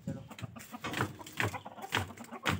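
Chickens cluck in a rapid run of short calls, close by and fairly loud, with no talk.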